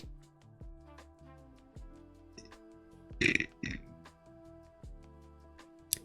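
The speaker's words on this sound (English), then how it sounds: "Deep burp." One deep burp rumbles out during a quiet indoor livestream chat, short and loud against soft background hum.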